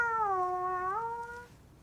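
A cat gives a single drawn-out meow, a clear tonal call near the listener that slides slightly and fades after about a second and a half, with no talk over it.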